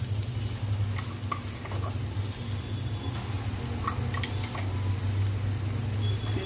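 Ground masala paste frying with onions in a pan, a steady close sizzle with a few soft stirring clinks, no voices.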